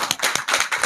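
A short burst of dense audience applause and clapping for a speaker at a high court bar gathering, loud and close, without talk.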